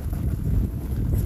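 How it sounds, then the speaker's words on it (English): Wind blows across an open golf course, a steady low rumble of microphone buffeting that stays constant and fairly loud with no voices. "It's kind of windy actually."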